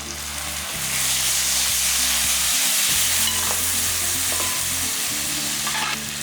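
Onions and tomatoes fry in a pan for a dry fish kuzhambu, a loud, continuous sizzle with stirring strokes scraping through it.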